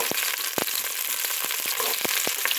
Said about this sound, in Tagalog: Now we're frying.